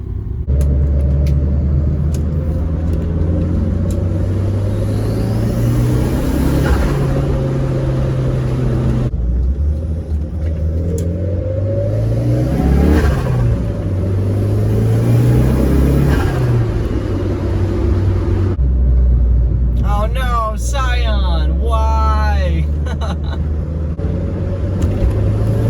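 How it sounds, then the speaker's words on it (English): A turbocharged car engine with an Apexi exhaust drones loudly and accelerates repeatedly, with rising turbo whine and exhaust rumble, then a fluttering release near the end. "The spool up sounds so good,"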